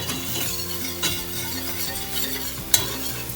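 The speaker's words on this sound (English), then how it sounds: "butter is melting, all-purpose flour is already cooking" Butter and all-purpose flour cook together in a pan into a roux, giving a steady, moderately loud sizzle with a stirring utensil scraping and clinking against the pan. A sharp clink comes near the end.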